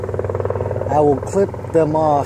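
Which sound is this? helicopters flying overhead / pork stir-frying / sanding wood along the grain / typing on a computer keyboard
helicopters flying overhead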